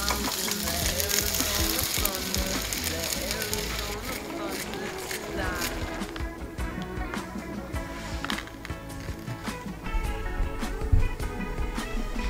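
Store-bought Trader Joe's dumplings pan-fry with a steady, crackling sizzle and scattered sharp pops that continue throughout, while voices talk over the cooking.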